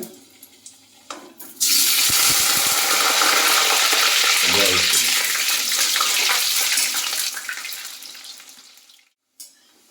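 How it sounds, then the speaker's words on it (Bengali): Potatoes frying in hot oil: quiet clatter at first, then a loud hissing sizzle bursts up and holds, gradually fading before a brief silence and a short final burst. "আলুগুলো আমি প্রথমে ভেজে নেব একটু ব্রাউন কালার হিস করে ভেজে নেব"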